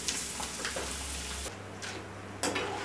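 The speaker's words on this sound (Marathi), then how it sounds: "अशा प्रकारे आपण सगळा मका तळून घेऊया आणि साईडला असा काढून घेऊया।" Maize kernels deep-frying in hot oil for Diwali makyacha chiwda, a steady close sizzle and bubbling with light stirring clicks and no talking.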